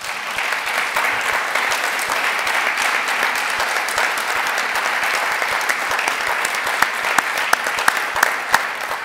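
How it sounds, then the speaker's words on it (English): Sustained audience applause honoring women Vietnam veterans at a Veterans Day ceremony, a steady dense wash of clapping across the whole stretch with a few sharper individual claps standing out near the end. "We owe them a big round of applause."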